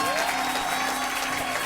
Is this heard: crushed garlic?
no